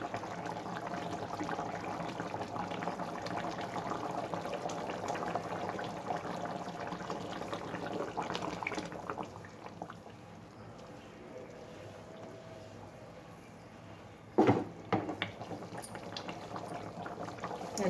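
Guntur-style fish curry simmers in a pot with a faint, steady low bubbling, broken by a brief clatter near the end.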